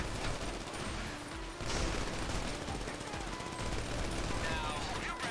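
Dense, continuous gunfire from a machine gun in a video game, rapid and loud throughout, with a brief dip partway before the firing resumes at full intensity.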